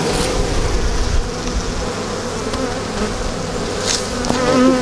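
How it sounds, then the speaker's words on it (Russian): Honeybees from an early-spring colony with a drone-laying queen drone in a continuous close buzz at an open hive, with drones among the workers and a few louder passes near the microphone. "Вот они, трутни есть."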